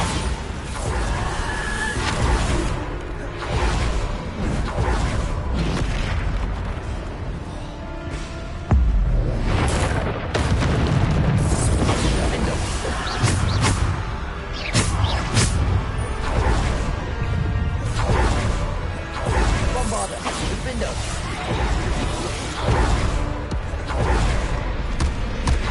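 Bombarda explosion spells cast over and over in the video game Hogwarts Legacy, a dense run of crashing blasts and whooshes layered with game music and effects, steady and loud throughout.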